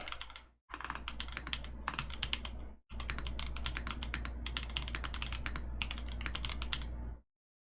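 Close, steady typing on a Tofu 65 mechanical keyboard with Boba U4T tactile switches, brass plate and NP Panda keycaps: a fast run of key presses broken by two brief pauses, then an abrupt stop.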